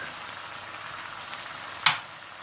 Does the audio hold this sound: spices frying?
yes